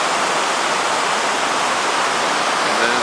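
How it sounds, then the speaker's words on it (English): A large creek rushes beside the St. Joe River, loud, close and unbroken, a dense wash of flowing water with no voices. "Beautiful, picturesque location with a good large creek coming down here"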